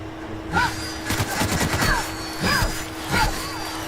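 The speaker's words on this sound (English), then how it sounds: "Who's fucking shooting at me?" Rapid gunfire in the video game The Outer Worlds, shots clustering in bursts with a steady hum underneath and faint whining tones between the volleys.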